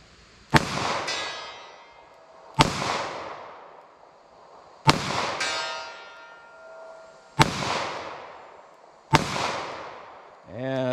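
Five sharp gunshots from a .38 Special snub-nose revolver during ballistic testing, evenly spaced about two seconds apart, each a loud crack with a ringing decay, close to the microphone.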